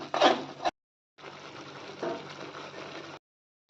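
Ground masala paste frying in oil in a pan for a Punjabi-style dum aloo, heard as a soft, steady hiss and sizzle in two stretches separated by silence.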